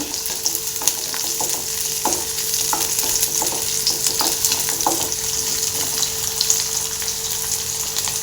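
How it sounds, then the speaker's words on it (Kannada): A medium-sized onion frying in hot oil for chole bhature, a steady close sizzle with occasional stirring scrapes and clinks of a spoon against the pan. "ಒಂದು ಮೀಡಿಯಮ್ ಸೈಜಿನ ಈರುಳ್ಳಿ ಇದು ಚೆನ್ನಾಗಿ ಫ್ರೈ ಆಗಬೇಕು ಆಯಿಲಲ್ಲಿ"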